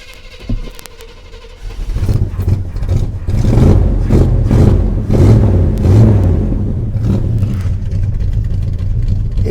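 A Chevy C10 with a hefty cam starts and revs hard through a choked exhaust, its loud lumpy rumble rising in several throttle blips, then settling into a rough, uneven idle close by.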